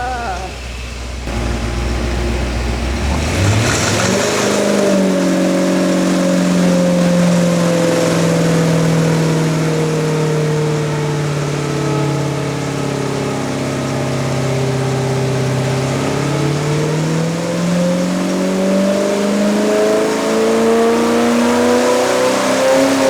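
A freshly rebuilt car engine starts and runs, revving up and settling into a steady idle while a noisy idler pulley adds a whine, loud and close throughout with brief voices in the background.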